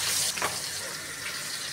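Pieces of fish, small pabda, go into hot oil in a wok with a sudden close sizzle that settles into a steady, bright frying crackle.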